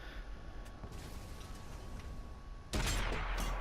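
A single loud, booming cannon blast from a T29 tank gun in World of Tanks bursts out near the end, after a stretch of low battlefield rumble.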